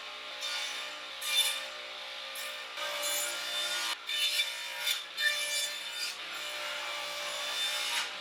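A table saw cuts half lap joints in wood for a bookshelf, its miter gauge set at an angle, giving a steady close whine with repeated surges as the blade bites into the board, alone without talk.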